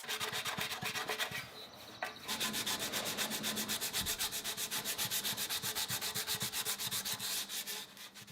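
Hand sanding with 80 grit paper on a metal motorcycle tank: close, rapid, rhythmic back-and-forth scraping strokes that continue steadily after a short pause near the start.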